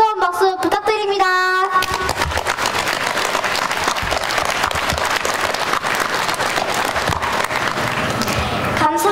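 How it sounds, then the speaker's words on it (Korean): Steady applause from an audience at a Sejong education superintendent's inauguration ceremony, greeting mayor Lee Choon-hee; a short spoken announcement opens it before sustained clapping fills the rest. "이춘희 시장님께 뜨거운 박수 부탁드립니다"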